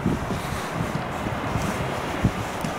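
Steady wind buffets an outdoor microphone, a broad continuous rumble with low gusty thumps and one brief louder gust, with no voices over it.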